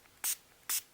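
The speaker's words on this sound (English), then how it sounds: "spray a little bit more in this area." Two quick, close spritzes from a spray bottle onto Brusho crystal colour powder, each a short burst of hiss separated by a brief pause.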